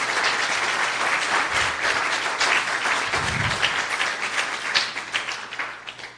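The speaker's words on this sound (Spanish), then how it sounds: "Denle un fuerte aplauso al Señor Jesús." A church congregation applauds loudly during a Spanish-language sermon, steady dense clapping throughout with a few low thumps.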